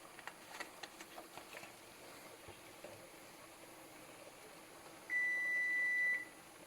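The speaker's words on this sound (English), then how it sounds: "Y'all probably heard that beeping." A kitchen appliance near a stovetop soup pot gives a single steady electronic beep lasting about a second, faint over a quiet background hiss.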